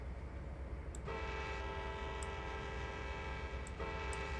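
A train in the Trainz video game sounds a sustained horn for nearly three seconds, cutting in abruptly over a constant low rumble of rolling stock. The horn returns briefly at the end, and the game audio plays without talk.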